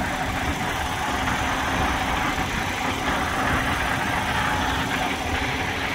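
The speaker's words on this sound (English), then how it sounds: "Fire back up my engine" A truck engine idling steadily, a dense continuous rumble heard up close for several seconds, with no talking.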